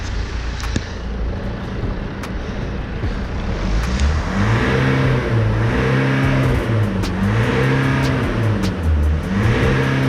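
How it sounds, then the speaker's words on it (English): A BMW 320d diesel engine idling unevenly with a misfire, its revs hunting up and down in repeated slow surges, loud and close with no talking. "You can hear the car still missing."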